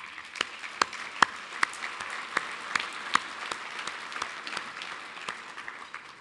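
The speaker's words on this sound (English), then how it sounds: "Let's give them a round of applause." Audience applauding at a regional planning event, a moderate crowd clapping steadily with a few sharp individual claps popping out, medium distance, gradually thinning toward the end, with no speech.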